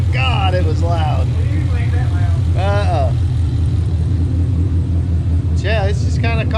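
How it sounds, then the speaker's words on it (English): The open-header V8 of a Foxbody Mustang idles after a cold start, a deep steady rumble running throughout while people talk over it. "that was by far the loudest cold start we've ever"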